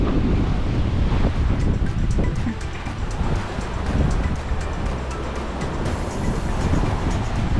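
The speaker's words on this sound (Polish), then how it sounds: "jak widzicie troszkę nas wozi fala." Ocean waves and gusting wind surround a sailing yacht at sea, a loud continuous rush of surf and wind buffeting the microphone, with low boat rumble beneath and no talk.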